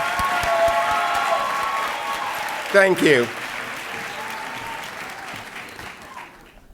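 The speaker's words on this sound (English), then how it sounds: "please, let's give a round of applause to all middle grade teachers" Audience applause for middle grade teachers at a university College of Education pinning ceremony fills the clip with steady clapping, a brief louder burst of cheering near the middle, and someone speaks briefly over it.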